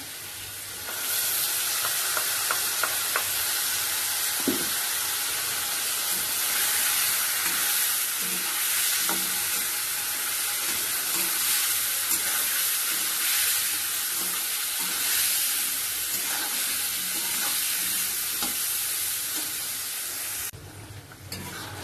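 Taro and potato pieces fry in a pan with a ground paste of ginger, green chili, cumin, coriander and chili powder, giving a loud, continuous sizzle broken by scraping stirs for about twenty seconds before stopping abruptly.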